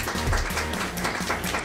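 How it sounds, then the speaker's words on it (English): A church online-service audience gives a round of applause for the flannelgraph presenters, a short, dense burst of clapping at moderate volume with a faint murmur beneath. "Let's give our flannel graphers a big round of applause."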